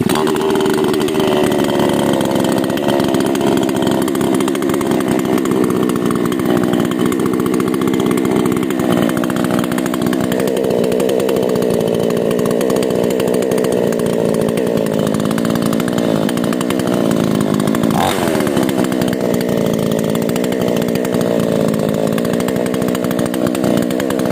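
A modified NewWest 728 Chinese chainsaw engine runs continuously, loud and close, with a raspy two-stroke buzz whose pitch drifts as the revs shift, including a brief rise near the end.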